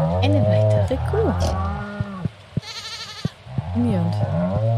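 A cow in the farming game Stardew Valley lets out a loud, close moo with a second call near the end, with a brief game chime between the calls.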